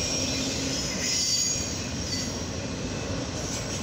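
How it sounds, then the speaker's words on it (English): A northbound CSX auto rack freight train rolls past at close range, loud and continuous, with squealing wheels and a rumbling, clattering roar throughout. "Yep, this is a CSX auto rack train."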